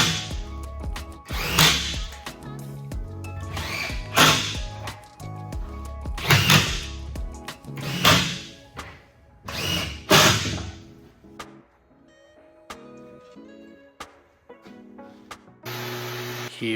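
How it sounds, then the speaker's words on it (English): A router rounds over the corners of MDF decorative cabinet panels: repeated loud, rising-and-falling whooshing bursts a couple of seconds apart, close by, over a tonal background, tapering off near the end. "Here I am just rounding over the corners of this MDF that's going."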